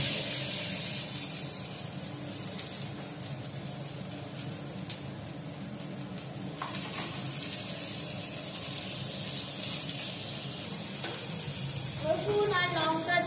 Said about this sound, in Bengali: এটা গরম হয়ে গেছে, এবার পেঁয়াজটা দিয়ে দিচ্ছি।